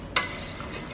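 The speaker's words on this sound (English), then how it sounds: "Slowly mix them in, stirring while you pour the soy milk in." A sudden pour of unsweetened soy milk starts, then a steady wet stirring hiss continues close up as it is mixed in for homemade egg tofu.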